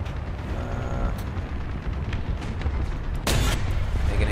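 A tank round in a video game fires and strikes a tree, heard as rumbling low gunfire ending in a sharp, loud broadband crack of impact near the end, with no talking.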